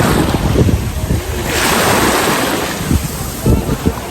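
Sea waves roll onto a beach in the evening, a loud, washing surf roar swelling and easing, mixed with gusty wind buffeting the microphone and brief bursts of voices.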